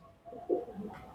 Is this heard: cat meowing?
no